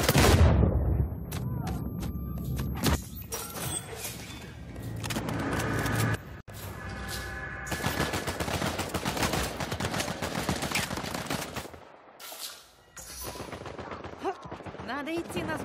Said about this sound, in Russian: Надо идти на звуки выстрелов.